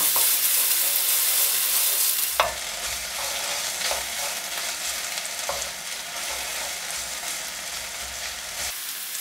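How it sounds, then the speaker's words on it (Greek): Pancetta sautés in a hot frying pan with a bright, continuous sizzle, interrupted by a few utensil scrapes and stirring knocks. Near and steady, with no talking. "Θα προσθέσουμε τον πελετέ, λίγο να τον τσιγαρίσουμε για αυτόν."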